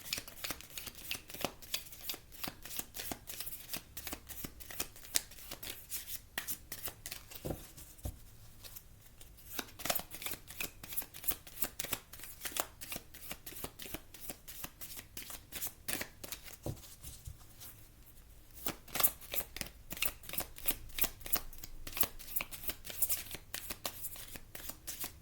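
A deck of chakra cards is shuffled over and over, a dense run of crisp riffling flicks that carries on almost without pause, close and fairly quiet, with no talk.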